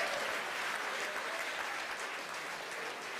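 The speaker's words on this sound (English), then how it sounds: "you hear the applause here from SpaceX headquarters in Hawthorne, California" Dense, steady clapping from a crowd gathered at SpaceX headquarters in Hawthorne, California, during a launch, continuous and fairly loud with no pauses.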